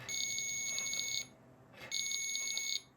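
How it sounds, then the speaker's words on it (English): A piezo alarm on a homemade phone stand emits a shrill, steady electronic tone in two long bursts separated by a short pause, loud and close. "And then I also added the piezo alarm."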